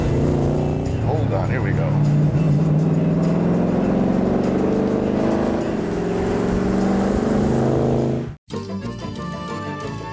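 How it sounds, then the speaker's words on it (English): A Maserati touring car engine revs and climbs steadily in pitch as it accelerates hard, with people talking over it before an abrupt cut. "it's a magnificent touring car"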